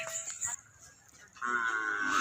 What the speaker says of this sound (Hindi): ये जानवर बहुत ही खूबसूरत भैंस